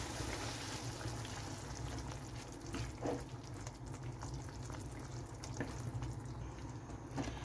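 Duck stock poured into a Kottayam-style Kerala duck curry: a steady, close liquid rush with a faint bubbling hiss that runs evenly throughout, with no talking.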